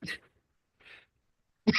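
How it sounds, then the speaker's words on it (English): A single sharp sneeze bursts out after a couple of brief breathy sounds, close and fairly loud. "hold on, I got to sneeze"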